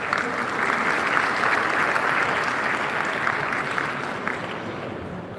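A large conference audience at an economic summit breaks into sustained, dense applause as a panel is welcomed onstage, steady and loud throughout before easing slightly near the end.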